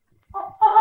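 A voice imitates a chicken with a short, sharp two-part squawking cry, loud and close, after a moment of silence.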